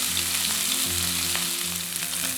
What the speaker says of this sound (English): Time to get our steaks in.